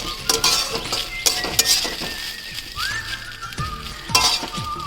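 Egg fried rice tossed in a pan over a high flame, with a spatula clinking and scraping against metal in quick irregular strokes over a low steady sizzle, close and fairly loud throughout.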